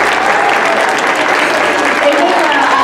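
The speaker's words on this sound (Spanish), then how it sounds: "Chicos, un fuerte aplauso para Caro," Audience at a nutrition fair bursts into sustained, loud applause, a continuous wash of clapping hands close by.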